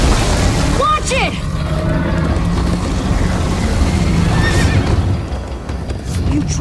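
A horse in Minecraft Story Mode gallops with steady hoof beats and lets out a short whinny early on, its neighs rising over rushing, noisy background action during a chase.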